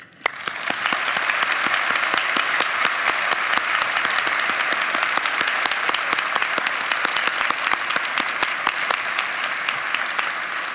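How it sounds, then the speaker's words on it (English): Sustained applause from a large audience at a nursing school pinning ceremony for a graduating class, dense and steady clapping filling the hall for about ten seconds after a brief quieter start. "Let's give one last round of applause for this class, for their faculty, and for the families and friends that brought us all here tonight"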